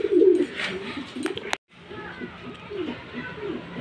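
Racing pigeon cooing on a house roof, a soft low coo near the start, then faint intermittent bird sounds with people talking in the background and a brief dropout midway.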